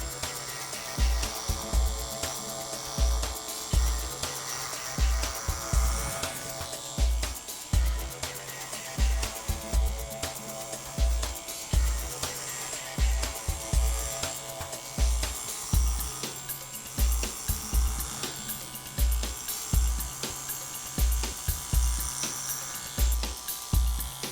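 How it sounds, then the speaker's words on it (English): Wahl KMC Plus dog clipper with a 5 blade buzzing steadily through a contour trim of a dog's whole body, a close continuous hum with a repeating rhythmic pulse underneath. "Next, we're gonna clipper the entire body with a 5 blade on my KMC Plus"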